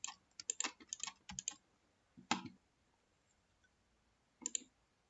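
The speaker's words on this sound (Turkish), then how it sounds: "Şu an rastgele değerler yazıyorum ekrana." Random values are typed into a spreadsheet on a computer keyboard: quick bursts of close, crisp key clicks, a pause, a single tap, then a final short burst near the end, in a quiet room.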